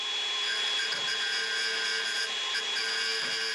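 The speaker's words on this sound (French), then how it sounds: "après avoir mis un petit coup de disqueuse, je vais terminer à la lime" An angle grinder shaping a wooden handle produces a steady, loud, high whine with abrasive grinding, continuous and close throughout, with no voices.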